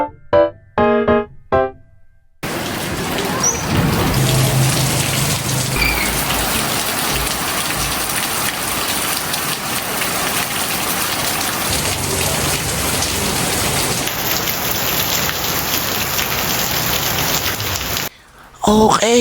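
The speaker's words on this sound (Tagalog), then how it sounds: "palakas ang ulan" Steady, heavy rain pours continuously, a dense wash of noise, with a few brief voices at the start before the downpour dominates.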